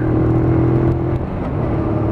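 A Lexmoto Michigan motorcycle pulls away in second gear, its engine droning steadily up close, the tone dipping briefly as it shifts into a higher gear.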